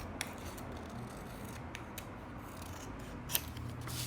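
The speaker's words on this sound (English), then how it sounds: "I'm gonna trim this down." Scissors trimming a piece of white card for handmade card making: a few quiet, close snips and blade clicks spread over a soft background, with no talking.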